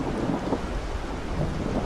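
Cartoon-style thunderstorm effect with heavy rain, a dense continuous roar of downpour with low rumbling thunder, loud and steady throughout with no voices.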